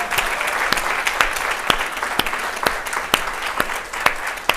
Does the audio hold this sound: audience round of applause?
yes